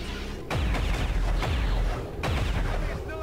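Several bursts of soldier gunfire from XCOM 2 crack out loud and close, spaced across the moment with booming low thuds after each volley, no talking over them.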